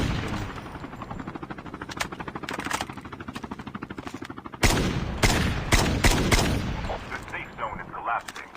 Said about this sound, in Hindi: ये लैंड करवा रहा है अपना हेलीकॉप्टर